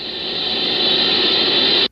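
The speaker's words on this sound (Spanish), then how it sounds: "Pero la Horn Antenna que utilizan recibe constantes interferencias." Cosmic background radio interference picked up by the Horn Antenna comes through as a steady, loud hiss of broadband static that holds evenly, then cuts off abruptly.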